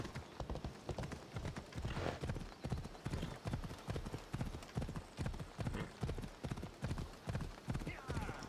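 Horse hooves clip-clop steadily in a quick, even gallop rhythm in Assassin's Creed Odyssey, loud and continuous across the whole stretch with faint ambient game sound behind.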